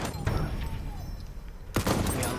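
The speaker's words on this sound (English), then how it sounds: "That's an enemy machine gun." Enemy machine gun fire in Battlefield 1's Argonne Forest, heard as a loud, rough burst of gunfire with a dense barrage near the end amid battle noise.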